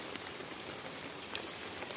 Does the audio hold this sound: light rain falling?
yes